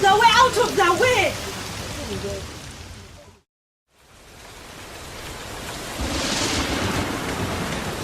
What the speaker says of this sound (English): Oh my God, this is a storm. Where did such heavy rain come from?